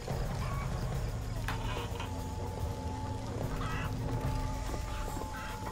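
Chickens cluck and squawk in a Call of Duty Black Ops village mission, layered over a constant low engine-like drone and game ambience, with occasional sharp clicks.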